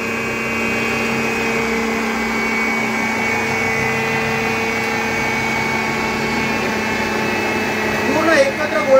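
A ROALD 2-in-1 food processor kneads dough, its motor whirring in a steady, loud drone throughout, with a brief rougher surge near the end.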